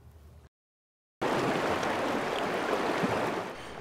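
A small creek in Oregon's John Day Basin flows in a steady broadband rush after a brief cut to silence, close and continuous with no voices.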